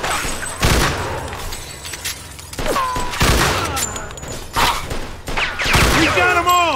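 Gunfire in Mafia 2 Definitive Edition: loud bursts of repeated shots and booming impacts with shattering, close and dense, while voices talk over the shooting.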